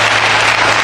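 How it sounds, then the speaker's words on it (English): A studio audience at a political talk show breaks into loud, dense applause, a brief close burst with no pause. "Your audience, which will clap apparently anything, is frivolous."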